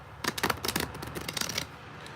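A deck of playing cards is shuffled for blackjack, giving a quick burst of riffling clicks and flutters up close that fades toward the end, with no voices.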